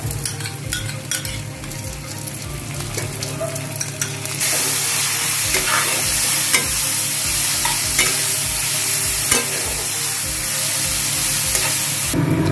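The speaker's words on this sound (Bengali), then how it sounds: "এরপর আমি অ্যাড করব আদা আর রসুনের" Ginger-garlic paste hits a pan of onions already fried deep red and is stirred through them, giving a loud continuous sizzle with rhythmic scraping strokes of the spoon that grow more intense partway through; no talking.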